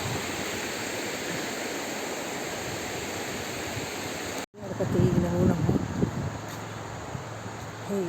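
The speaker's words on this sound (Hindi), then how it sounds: "साफ सुथरा कांच जैसा पानी बह रहा है।" Clear river water rushing past near a bridge in rainy-season countryside, a loud broad steady roar that cuts off briefly, then returns rougher and more turbulent as a voice speaks over it.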